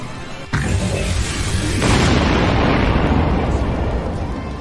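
A loud explosion bursts out as a monster's attack destroys a card in an animated Yu-Gi-Oh series, beginning with a sharp onset and then swelling into a sustained roaring blast that holds steady for several seconds.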